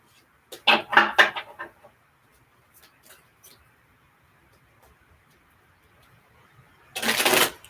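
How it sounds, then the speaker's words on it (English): Tarot cards shuffled by hand for a live reading: a quick burst of riffling near the start, a few faint taps in the middle, then a second dense shuffle at the end, close and crisp with no talk. "Okay, let's get these cards shuffled up."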